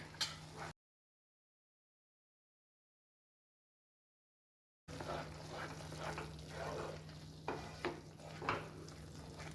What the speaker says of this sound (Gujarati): તો હવે આપણે હલવાની અંદર ઇલાયચી પાવડર ઉમેરીશું. ઇલાયચી પાવડર ઉમેરીને બધું જ સરસ મિક્સ કરી લઈશું.